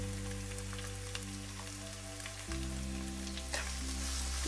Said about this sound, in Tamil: பூண்டு பாருங்கள், நமக்கு நல்லா எண்ணெயிலே வணங்கணும்.